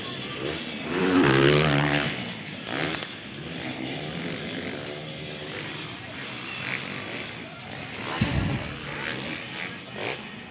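Motocross motorcycles racing in an MX1 heat at a dirt track, engines revving and passing with a loud surge near the start, under steady Spanish race commentary throughout.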